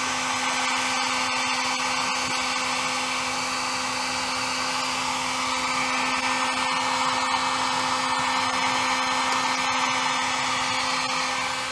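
A heat gun blows steadily on the fender flare of a 2015-2020 Ford F150, a loud, unbroken whir with a fixed hum that runs close up and alone for the whole stretch.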